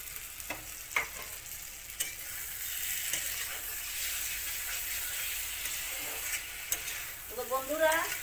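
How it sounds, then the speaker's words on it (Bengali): Potatoes and ridge gourd fry in a spiced pan with a steady, close sizzle and hiss, broken by occasional stirring clatters, and a faint voice surfaces near the end. "ভাজা করে আলুটাও দিয়ে দিই।"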